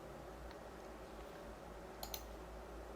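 A computer mouse gives two quick, faint clicks close together while modeling in SolidWorks 2021 software, with a softer tick earlier, over a steady low background hum.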